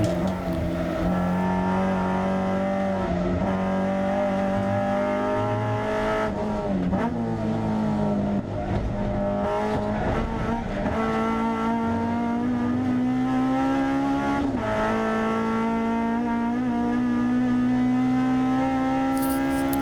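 A Honda Civic EK9 hot hatch race car roars around Castle Combe circuit during a race weekend, its engine droning loud and close throughout, pitch rising and dipping through gear changes and corners, with occasional tire noise.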